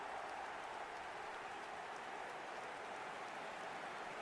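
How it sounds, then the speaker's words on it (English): Faint, steady crowd applause in an eFootball match, a dense wash of clapping from a distant stadium audience with no distinct voices on top. "Even some of the opposing fans are clapping that."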